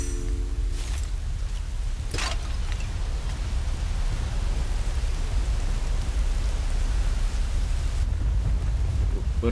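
Heavy rain pours in the Tomb Raider Underworld video game, a dense, constant hiss of downpour with a deep rumbling low end, steady for the whole stretch, broken briefly by a couple of short sharper noises.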